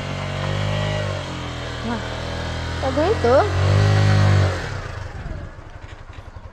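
A motorcycle engine labors and revs under strain climbing uphill, rising and falling, while people talk briefly over it; the engine then settles to a lower idle.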